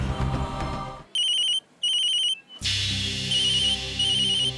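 A phone ringtone sounds in two bursts of electronic tones, then rings again over background music after someone speaks briefly in Hindi.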